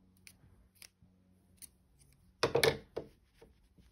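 Scissors snip through crochet yarn in a single crisp, close cut, with faint handling clicks before it in a quiet room.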